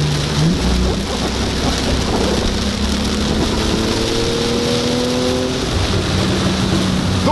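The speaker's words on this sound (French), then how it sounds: "Regardez-moi ça, le déluge." Heavy rain pours down in a constant, loud, dense hiss without a break. A low rumble and tonal hum run underneath it.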